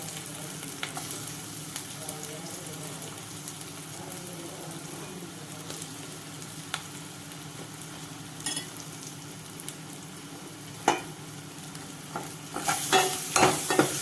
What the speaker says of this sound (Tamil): இப்போ இந்த இஞ்சி பூண்டு போட்டுரும்.